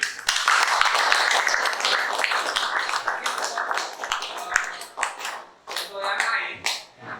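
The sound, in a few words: class clapping for group 7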